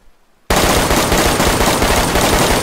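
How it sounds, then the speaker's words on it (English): Rapid automatic gunfire from a video game cuts in after a half-second of quiet and keeps firing in a dense, loud, continuous burst right up to the end. "What are you guys shooting at?"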